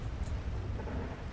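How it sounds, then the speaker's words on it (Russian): Steady rain with low rumbling thunder in GTA 5, heard as a continuous, fairly loud wash of falling water with a deep undertone throughout, no voices. "Не надо, здесь дождь идет."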